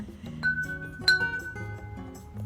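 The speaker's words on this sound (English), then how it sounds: "Here's some the glass bottles that are wind chimes." Glass bottle wind chimes clink and ring softly, several bright tinkling notes overlapping and sustaining, fairly faint with a light background hum.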